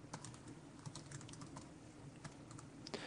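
Rapid, irregular clicking of code being typed on a computer keyboard during C++ programming: quiet, close keystrokes in uneven bursts with brief pauses, no voices.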